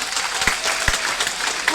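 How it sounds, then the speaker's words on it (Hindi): Company event audience in Lucknow clapping for the regional manager, a lively continuous patter of many hands with a couple of louder thumps, no talk over it. "भरत सर के लिए जोरदार तालियां"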